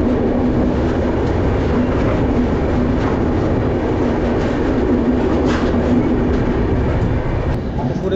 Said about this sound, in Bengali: 20 মিনিট আগে দাঁড়িয়ে এসে গেছিলো ট্রেন